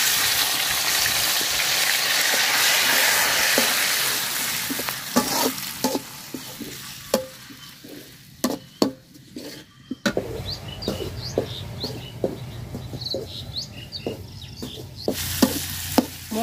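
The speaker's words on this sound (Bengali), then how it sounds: "মশলাটা খুব সুন্দর করে তেলের সাথে ভাজা নিছি" Ground spice paste fries in hot oil in a home kitchen, a soft sizzle that fades partway through, broken by a series of sharp scraping and clinking stirs from a utensil against the pan.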